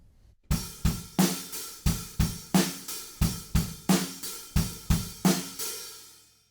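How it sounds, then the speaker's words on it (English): A rock drum beat in the style of a song, with loosened, slushy open hi-hats washing over a steady kick and snare groove, a dozen evenly spaced hits, close and loud with no voices. "we play the same thing with slushier hi-hats"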